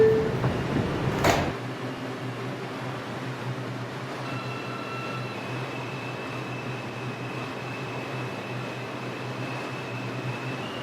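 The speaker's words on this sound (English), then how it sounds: "Stand clear of the closing doors," A New York City R142 subway car on a Woodlawn-bound 4 train, with a brief loud bang of the doors shutting near the start, then steady rumble and hum of the idling train with a faint tonal whine.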